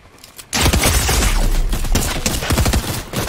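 Rapid gunfire in the Fortnite video game, a dense burst of loud repeated shots starting abruptly and continuing for about three seconds.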